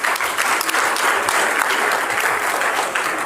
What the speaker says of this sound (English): So we should give them a hand of applause